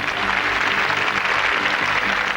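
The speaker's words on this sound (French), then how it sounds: "et on va les applaudir très fort" A French television studio audience applauds loudly for the nation's sports champions at a 1991 awards show, a dense, steady wash of clapping that holds evenly throughout with no voices on top.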